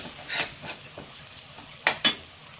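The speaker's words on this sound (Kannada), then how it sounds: "ಡ್ರೈ ಮಸಾಲ ಹಾಕಿರೋದ್ರಿಂದ ತಳ ಸೀದೋಗ್ಬಿಡುತ್ತೆ ಹಾಗಾಗಿ ಸ್ವಲ್ಪ ಇದು ಫ್ರೈ ಆಗಲಿ" Dry masala fries in a pan for an egg gravy, giving soft sizzling with a few brief scraping stirs, close and fairly quiet, no voices.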